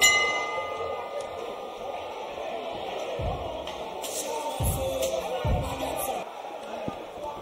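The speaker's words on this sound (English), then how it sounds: "And there goes the bell." Boxing round bell clanging at the close of a round in a live fight, a few sharp metallic rings rising over crowd noise and a commentator's voice.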